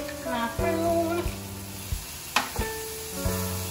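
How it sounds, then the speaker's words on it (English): Chicken sizzles and fries in a pot while cooking for Mexican couscous, a steady crackling hiss close by with clinks and scrapes of a spoon and brief tonal clatters over it. "We're gonna let the chicken finish cooking."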